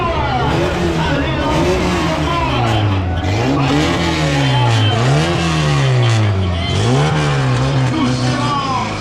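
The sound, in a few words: stunt show cars driving past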